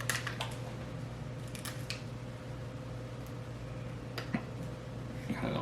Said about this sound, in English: It's gonna be hard to cut this open without getting it on the scissors.